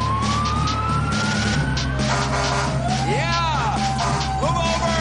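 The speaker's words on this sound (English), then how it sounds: "The fire engine." A fire engine siren wails loudly and close, its rising and falling sweeps over a deep engine rumble and traffic noise, with a brief horn-like blast partway through.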